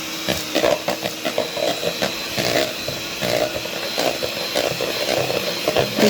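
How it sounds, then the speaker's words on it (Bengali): An electric blender whips cream, with no sugar added, in a steady motor whir pulsing with uneven surges, fairly close and heard without voices. "তো ব্লেন্ড করে নিতেছি।"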